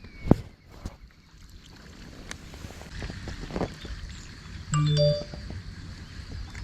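A LINE app message notification chimes from a phone during an outdoor bass-fishing outing, a short rising electronic jingle of a few clear notes over wind and water noise.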